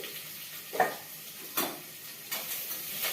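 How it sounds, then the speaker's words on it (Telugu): Onions fry with turmeric in a pan for a green papaya pulusu stew, a soft sizzle with three separate stirring scrapes and clinks, close and quiet with no talking. "ఆనియన్స్ని కొంచెం ఫ్రై అవ్వనివ్వాలి ఇందులో కొంచెం పసుపు వేసుకోవాలండి"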